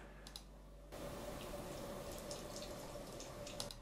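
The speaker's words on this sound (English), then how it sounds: "this is a water drip" A water drip sound effect from a video editor's sound library, faint trickling and dripping over a hissy wash of running water, steady and quiet with no voices.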